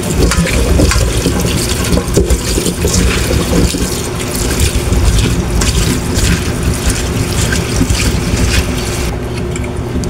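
Picked vegetables, squash and string beans, are rinsed under running water, a continuous splashing and trickling with clatter of the produce in a basin.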